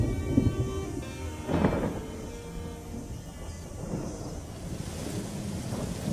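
Thunder rumbles through a rainy-season storm in an African river delta, with steady rain hiss and low booming rolls building in a couple of surges, distant and unbroken by any voices.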